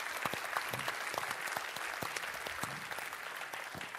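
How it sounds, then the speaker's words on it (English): An audience applauding nurses at a critical care talk, a fairly quiet patter of clapping with distinct individual claps standing out across the few seconds, no speech over it. "can we have a round of applause for the nurses?"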